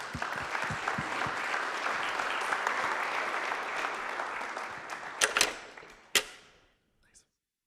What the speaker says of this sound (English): Give Joe a big round of applause.